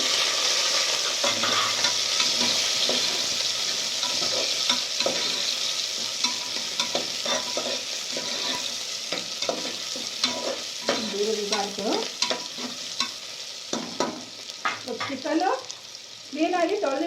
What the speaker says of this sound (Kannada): ಬೆಳ್ಳುಳ್ಳಿ ಸ್ವಲ್ಪ ಫ್ರೈ ಬೆಳ್ಳುಳ್ಳಿ ಹಸಿ ವಾಸನೆ ಹೋಗ್ಬೇಕು ಒಂದು ಈರುಳ್ಳಿ ಹಾಕ್ತೀನಿ